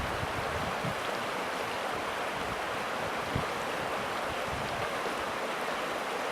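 Clean freshwater flows with an even, continuous rushing wash, close and steady throughout, with no voices.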